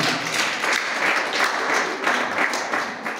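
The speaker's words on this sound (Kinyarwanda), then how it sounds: "Amashyi ku Mana." A wedding congregation applauding to glorify God, a full, steady burst of many clapping hands with a slightly swelling rhythm, fairly loud and close, no speech over it.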